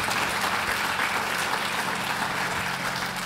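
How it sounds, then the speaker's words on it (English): An audience at a live event gives a round of applause, dense continuous clapping that fills the space evenly for the whole stretch, with no voices standing out. "how about a nice round of applause for all these guys up here real quick."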